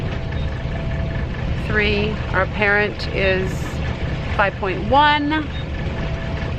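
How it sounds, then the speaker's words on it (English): A sailboat's engine motor runs steadily underway at sea, a low constant drone beneath people talking. "you can hear the motor"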